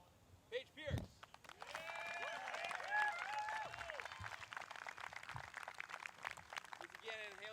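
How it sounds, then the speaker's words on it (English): Applause from a disc golf crowd for a women's match play championship winner, moderate and sustained for several seconds outdoors, with people chattering and calling out over the clapping. "A round of applause to the winner of this match, Paige Pierce."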